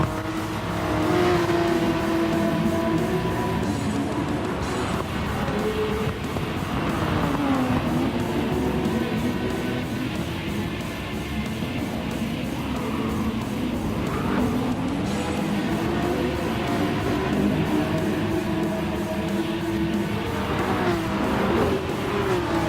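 Race cars in GT Sport roar close by in a pack, engines revving and shifting, with tire squeals and cars passing, loud and continuous throughout.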